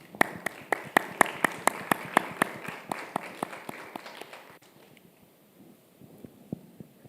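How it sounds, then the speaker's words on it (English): At a conference dialogue session, an audience claps in a regular, evenly spaced rhythm of sharp claps that grows softer and sparser after a few seconds. "let's give them all a warm round of applause"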